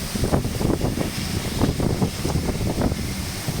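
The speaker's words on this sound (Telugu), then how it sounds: "వర్షం ఒకటే కాదు గాలి వర్షం కలిపి కొడుతుంది" Steady roar of wind with dense, continuous heavy rain hiss and gusty buffeting on the microphone, loud and unbroken throughout, in Srikakulam.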